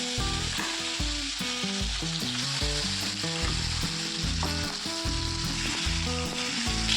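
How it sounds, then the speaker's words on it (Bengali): Rui fish frying in hot oil in a wok, a loud, continuous crackling sizzle close up, with stirring and clattering as it cooks and no voices heard. "এবার মাছটা তেলে দিয়ে দেবো। দেখো, মাছটা কড়াইতে দিয়ে দেবো।"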